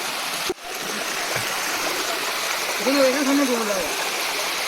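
A waterfall stream at Ajodhya Hill in Purulia gives a steady, broad rush of falling water throughout. A voice is briefly heard over it near the end.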